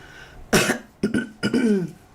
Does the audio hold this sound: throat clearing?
yes